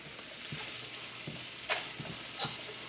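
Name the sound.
onions and chicken stir-fry sizzling in a pan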